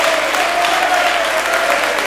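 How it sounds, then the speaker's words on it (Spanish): A church congregation claps together in a steady, dense burst of applause that stays loud and even for about two seconds, with a faint sustained tone running beneath it. "¡Denle un aplauso al Señor!"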